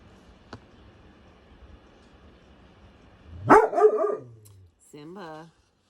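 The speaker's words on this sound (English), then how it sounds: "I need you to not bark, baby." A pet dog named Simba barks loudly in a short burst of several close barks, followed by a brief tonal whine or yelp, after a quiet stretch of soft background hum.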